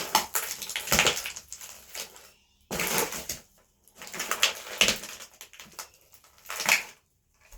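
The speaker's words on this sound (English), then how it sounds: "look at this car being flattened" A Honda flash pop toy car is crushed flat under a shoe, giving bursts of crunching and crackling plastic in several uneven rounds with short quiet gaps between, fairly close and moderately loud.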